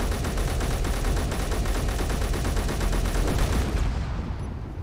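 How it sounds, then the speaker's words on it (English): Oxygen tanks explode in the space-building game Space Engineers, a loud, continuous rattling roar of rapid blasts that goes on for several seconds before tapering off. "they actually explode just like a small hydrogen tank"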